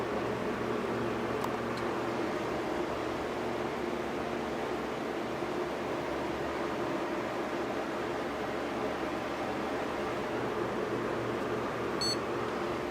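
A desktop PC with a new Haswell build in SLI gives a single short electronic beep near the end after its power switch is pressed, over a steady low fan and room hum.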